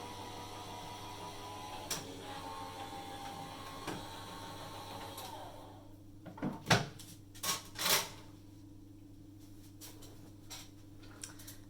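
A craft embossing machine cranks a folder with vellum through its rollers, starting as a low steady hum with faint ticks, then a few loud mechanical clunks and rattles near the end, with no talking.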